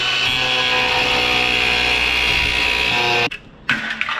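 A power tool saws steadily through a homemade part, cutting teeth into it, a loud, continuous grinding buzz that runs for about three seconds before cutting off, then briefly resumes.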